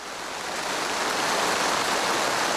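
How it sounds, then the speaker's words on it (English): Steady heavy rain falling in the Foya Mountains rainforest, a dense continuous hiss that stays loud and even throughout with no voices. "When it rains in a rainforest, everything stops"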